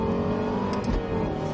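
A Lexus LFA engine revs hard while the car drifts, a loud sustained high-pitched wail with a brief squeal of the tyres near the middle.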